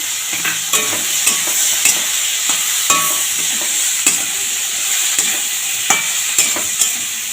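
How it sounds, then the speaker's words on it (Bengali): Steady sizzle of vegetables frying with turmeric in a pan, with repeated scraping and clinking of a spatula stirring at an irregular rhythm, close up. "সামান্য একটু ভাজা ভাজা করে নেব।"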